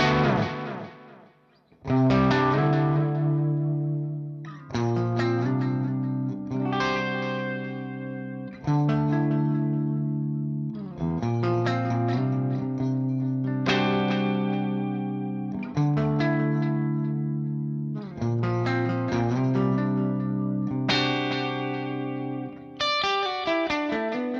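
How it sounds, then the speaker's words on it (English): An electric guitar runs through a Universal Audio OX Box delay effect, playing a series of strummed chords whose repeats trail off, each new chord starting loud and decaying, with no talking. "So let's hear the delay."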